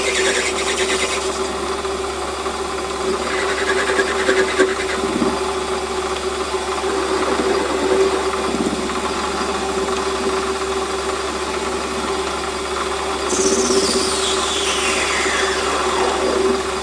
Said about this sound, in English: we'll just machine its length to a nominal 15mm